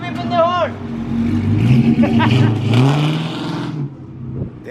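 A car engine revs hard through a newly split full exhaust, a loud, rough drone that swells and falls over several seconds, with voices talking over it close by.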